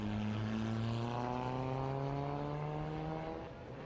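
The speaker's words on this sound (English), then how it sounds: "Thomas Kay rushes into turn 1 now in the Honda S2000 powered RS2000" Honda S2000-powered RS2000 race car at a grassroots historic sprint, engine note rising steadily as it accelerates into turn one, a loud sustained harmonic drone that eases slightly at the end with no talk over it.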